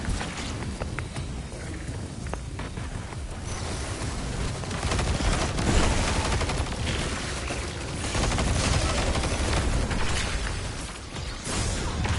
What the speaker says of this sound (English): it's obviously that sniper that's hitting me hard